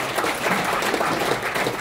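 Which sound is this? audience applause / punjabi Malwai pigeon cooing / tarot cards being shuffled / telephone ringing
audience applause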